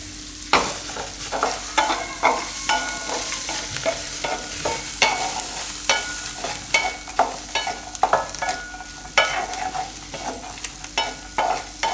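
Flattened rice (poha) is stirred in a hot pan on a gas stove for a Gujarati dahi poha breakfast, with repeated close spoon scrapes and light sizzling frying running steadily throughout, no talking.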